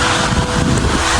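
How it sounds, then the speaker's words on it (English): Strong wind buffets the microphone outside a house in New England, a loud, continuous rumbling gust with no talking. "The wind just picked up again."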